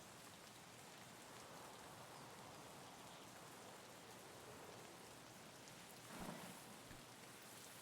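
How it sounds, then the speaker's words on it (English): Steady rain falling in the Escape from Tarkov shooter game, a soft even hiss of drops on surfaces with a faint low thunder rumble near the end, quiet and continuous with no talking. "On the plus side, we do have the rain that's going to give us"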